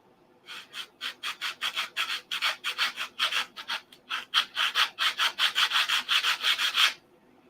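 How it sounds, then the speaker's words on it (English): Rhythmic back-and-forth sanding strokes on a 1/2A Cobra model airplane cowl, about two dozen quick rasping passes in steady bursts, close and moderately loud, with no talking. "we need to sand a little bit right here"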